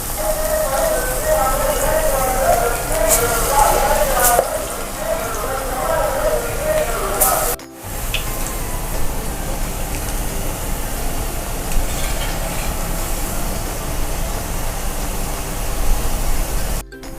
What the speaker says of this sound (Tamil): சின்னதாக கிள்ளி நம்ம எண்ணெயில் போட்டு பக்கோடாவாக பொரித்து எடுக்க போகிறோம்